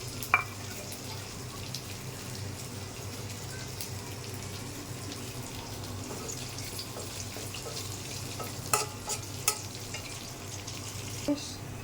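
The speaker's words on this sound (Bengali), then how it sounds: "পেঁয়াজটা হালকা ভাজা হয়ে গেছে," Chopped onion frying in a little oil in a pan while cooking rohu fish curry, giving a steady, close, continuous sizzle with occasional stirring clicks and no talking.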